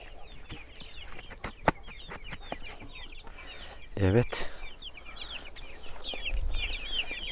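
Young chicks peep and cheep in a brooding area, their high calls scattered throughout at moderate volume, with someone talking briefly and some handling noise.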